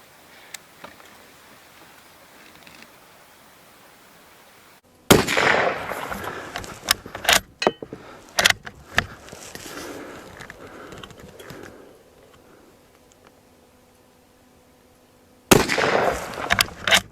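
Scoped Winchester rifle in .218 Bee fires several loud, close shots: a sharp crack after a quiet lead-in, a cluster of shorter bangs and clatters over the next few seconds, then another shot near the end.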